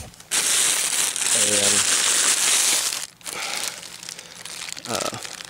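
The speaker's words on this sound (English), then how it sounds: "So now it's just gonna be a matter of unwrapping this" Plastic packaging crinkles loudly up close as a new front axle for a 2001-06 Hyundai Elantra is unwrapped, in bursts of crumpling with a short pause, and a voice speaks briefly.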